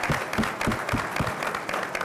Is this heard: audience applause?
yes